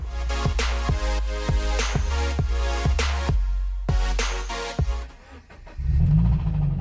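2013 Scion FR-S engine with a spun bearing, cranking and running with a rough, rhythmic pulsing knock for several seconds. It cuts out briefly, restarts, then drops to a low uneven rumble.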